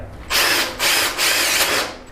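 Power drill fitted with an ONISHI 6.5 mm bit boring through tile into concrete, three loud whining bursts of drilling with brief dips between them, no voices.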